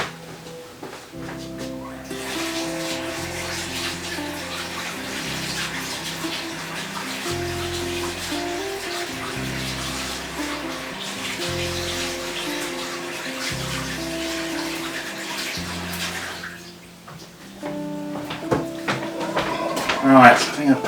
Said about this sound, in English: I'm just going to wash my hands